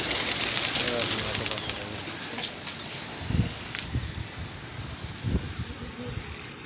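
Pigeons, including newly acquired birds, coo softly in their enclosure, with low, brief calls surfacing every second or so over steady background hiss and a faint high chirping.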